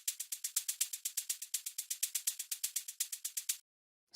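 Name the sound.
programmed hi-hat groove with velocity variation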